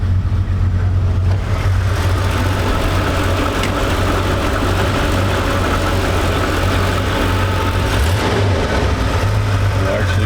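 A 1969 Chevrolet G10 Deluxe Sportvan with a 307 V8 runs on a cold morning, a loud steady low rumble that holds constant throughout, close by and without pause.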